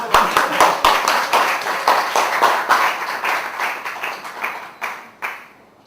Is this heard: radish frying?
no